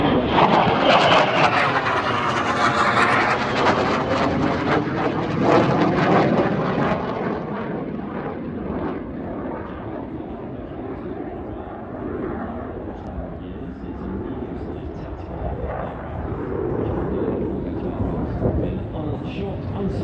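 C-130J Hercules military transport aircraft at an airshow, its engines producing a loud, sustained broadband roar that swells early and then settles into a steady drone, with a commentator talking over it.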